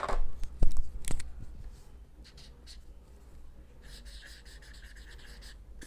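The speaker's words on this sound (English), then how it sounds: "I'm gonna write them with a marker so you can actually see them." A few sharp taps, then a marker squeaking and scratching across paper in short strokes, close up and fairly quiet.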